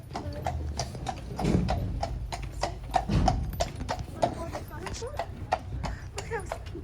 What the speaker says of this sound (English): So this is the horse that's going to pull the boat.